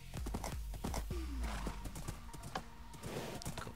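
A horse in the Minecraft video game, with rapid clip-clop hoof steps running throughout and a descending whinny in the middle, loud and close with no talk.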